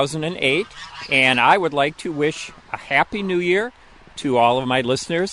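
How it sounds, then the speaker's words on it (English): Geese honk outdoors on a Michigan afternoon in winter, their calls faint and mostly masked beneath someone speaking close to the microphone. "you can probably hear the geese in the background"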